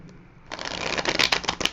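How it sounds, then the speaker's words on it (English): A quick riffle of playing cards being shuffled, a fast burst of crisp flutter and snapping close by, lasting about a second. "I'm going to just do a bit more shuffling"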